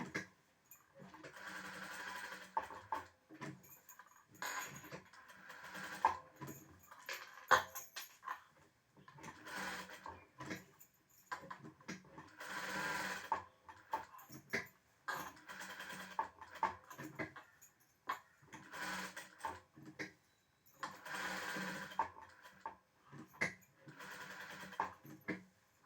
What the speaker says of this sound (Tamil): ப்ளவுஸ் அப்படியே மறுபடியும் இன்னொரு தையல் போடுவேன்.